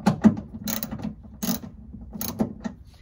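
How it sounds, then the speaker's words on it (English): A number 10 socket on a socket wrench ratchets in several quick bursts of clicking, close and fairly loud, with short pauses between strokes while fastening a power switch panel in a Ford Maverick truck bed. "Number 10 socket wrench."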